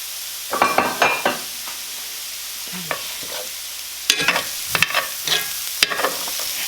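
Garlic and bok choy leaves cooking in a pan on an electric stove, a low constant sizzle punctuated by bursts of clattering utensil scrapes and taps, loud and close.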